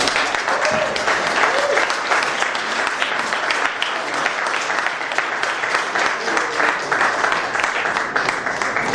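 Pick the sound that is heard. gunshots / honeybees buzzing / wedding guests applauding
wedding guests applauding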